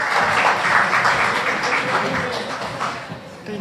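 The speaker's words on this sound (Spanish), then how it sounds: "Recibamos con un aplauso" Audience at a public book debate in Chiloé applauding the two debaters, a dense, even wash of clapping at moderate volume, with faint murmuring voices underneath.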